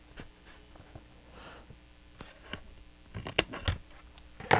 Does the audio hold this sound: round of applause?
no